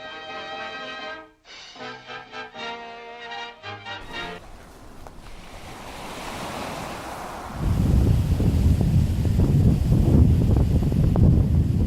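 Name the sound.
ocean waves and wind at the beach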